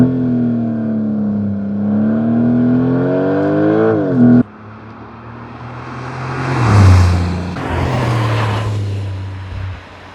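Porsche 911 Turbo S with a 3.6-liter boxer engine and titanium sport exhaust revs loudly, a rising and falling engine note that cuts off abruptly, then a rougher throaty surge builds and swells twice before easing.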